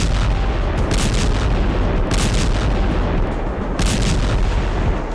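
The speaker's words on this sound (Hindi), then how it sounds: "यही वजह है कि यूक्रेन की जमीन पर धमाके हो रहे हैं।" Artillery fire and explosions in Ukraine make a loud, dense roar of heavy rumbling with repeated booming bursts roughly every one and a half seconds, continuous and overwhelming with no voices.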